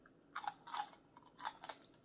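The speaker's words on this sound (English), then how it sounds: "You hear that crunch?" Crunchy pig ear fries cooked in an air fryer, bitten and chewed close to the mic in four or five crisp, crackling bursts with short quiet gaps between them.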